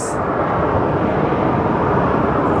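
A Breeze Airways Airbus A220 at Phoenix Sky Harbor, a loud, steady, broadband jet roar that holds constant throughout, close and unbroken, with no voices.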